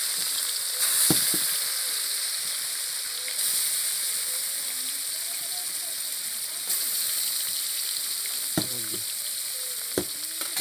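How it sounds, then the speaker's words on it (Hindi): Fish sizzles and crackles in hot oil in a kadai, a steady bright frying hiss with occasional sharper pops, outdoors at a village fish party. "देखिए तो मछली मेरा फ्राई हो रहा है"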